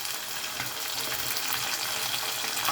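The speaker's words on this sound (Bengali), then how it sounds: "এখন এই পাশটাকেও ভালোভাবে ভেজে নেব।" Pieces of pangas fish sizzle steadily in hot oil in a pan, a loud, even crackling hiss that runs unbroken with no voices over it.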